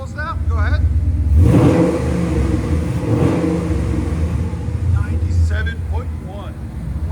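A 1992 Ford Mustang LX with a swapped Coyote 5.0L V8 and 14-inch Magnaflow exhausts rumbles, then revs hard into a loud, sustained roar close by, with someone briefly talking.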